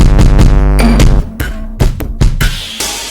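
Hip-hop drum loop and a second layered drum pattern playing together in a trap-style beat, dense repeating kicks, snares and hi-hats with deep tonal bass hits, loud, steady and up front, no voices.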